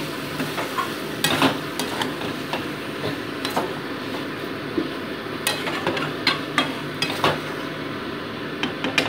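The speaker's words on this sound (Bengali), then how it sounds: "মোটামুটি মাছের গায়ে মশলাটাকে ভালো করে মাখিয়ে দিচ্ছি আমি" Spice paste being worked onto lote fish in a pan for a begun jhal, with repeated scraping and sharp clinks of a utensil against the pan over a soft sizzle, close and fairly loud.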